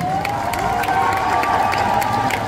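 A crowd at Japan Tours Festival applauds and cheers for an older man on stage, a dense, steady roar of clapping and shouts throughout.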